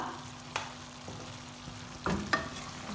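Potatoes with garam masala frying in a pan for potato and egg masala, a low steady sizzle with a few sharp stirring scrapes near the start and end.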